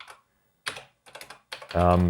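Keys click and clack in short bursts on the membrane keyboard of an old childhood home computer that has some sticking keys. A voice briefly follows.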